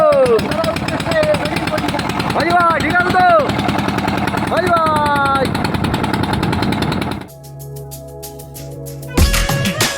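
A boat engine is started on a fishing trip in a tiger forest, loud rattling, chugging noise under shouting voices, settling into a steady droning hum before a sharp loud burst near the end.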